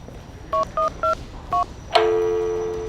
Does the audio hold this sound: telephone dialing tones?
yes